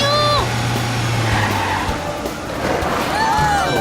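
Animated cartoon car skidding to a halt, a loud high tire screech with whistling sliding tones over a rumbling motor, the squeal sweeping in near the start and again at the end.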